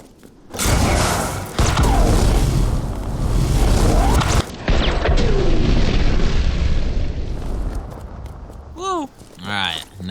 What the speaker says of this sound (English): And now for the ultimate explosive weapon, the rocket launcher.